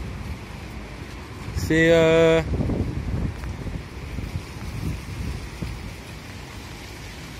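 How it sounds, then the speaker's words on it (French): Storm wind roars and buffets the microphone steadily outdoors, with rumbling gusts. Someone talks over it, and a brief tonal squeal cuts in near the start. "c'est pas une si grosse tempête, mais c'est quand même une tempête"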